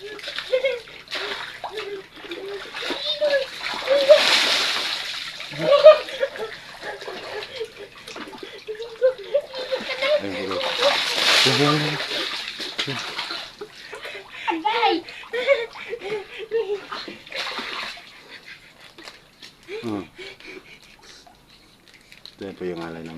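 Water splashes and sloshes repeatedly while someone bathes at a well during a ritual offering, with bursts of splashing under ongoing talk and laughter from people nearby.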